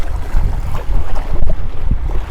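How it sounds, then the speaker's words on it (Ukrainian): Strong wind on the Kyiv Reservoir shore buffets the microphone with a loud, continuous low roar and gusty rumble, with no voices. "Розпочався доволі таки сильний вітер"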